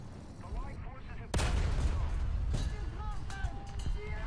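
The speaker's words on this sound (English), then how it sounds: "Thank God that was an ammo shot." A tank cannon fires in a video game, one heavy boom partway through followed by rumbling battle noise and scattered smaller impacts, with voices mixed into the game sound.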